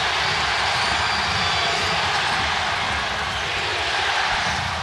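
A home crowd roars steadily at a FIBA World Cup basketball game, a dense, loud wall of sound that never lets up, with no clear voice standing out.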